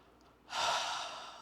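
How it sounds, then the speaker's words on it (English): Ujjayi ocean breath exhaled through the mouth during a standing yoga flow: quiet room tone, then one long, breathy rushing exhale that swells quickly and slowly fades, close and alone. "let's start with our ocean breath, our Ujjayi breath"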